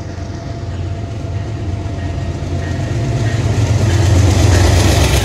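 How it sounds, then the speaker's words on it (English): A westbound Amtrak passenger train races past at high speed, its deep rumbling roar building steadily louder and closer over several seconds with no talk. "There goes Amtrak!"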